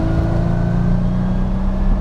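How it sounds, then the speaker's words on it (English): Engine of a 1990s Bugatti EB110 supercar held at higher revs: a loud, close, sustained droning whine with steady tones and no talk. "it does seem to do well even as you get into higher revs"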